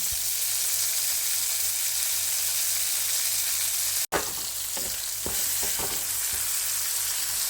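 Food frying in coconut oil gives a close, steady sizzling hiss, broken by a sharp clunk midway, then a few spatters and stirring scrapes over the continuing sizzle.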